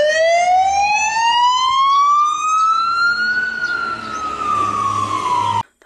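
A toy fire engine's electronic siren rises in one long steady sweep, then slowly falls, loud and close with no voices over it, before cutting off abruptly near the end.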